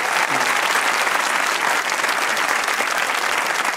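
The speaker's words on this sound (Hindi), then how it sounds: "उनके लिए बहुत सी तालियां होनी चाहिए।" A studio audience at a Pakistani comedy talk show bursts into steady, even applause, a thick wash of many hands clapping alone for several seconds with no voices.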